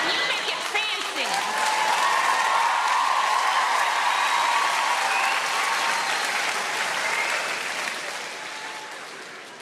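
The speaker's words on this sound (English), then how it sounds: "All those women clapping" Comedy club audience bursting into sustained, loud applause and cheering that fills the room steadily before tapering slightly at the end.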